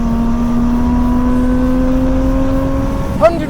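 Toyota Chaser accelerating hard on a slippery race track, a loud, steady engine drone with gradually rising pitch held throughout, ending in a brief change near the finish line.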